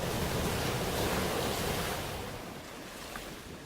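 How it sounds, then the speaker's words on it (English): Pacific Ocean waves pounding in a continuous broadband wash of surf that eases slightly after the first couple of seconds, with no voices. "We are lulled into sleep with the pounding of the waves."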